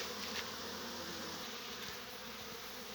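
A steady drone of many honeybees buzzing at an apiary, soft and continuous, with a few individual bees passing closer to the microphone.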